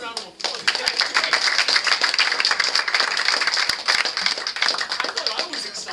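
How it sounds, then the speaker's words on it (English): An indoor audience claps for several seconds, dense, even applause close by that stays steady throughout. "Let's give him another round of applause."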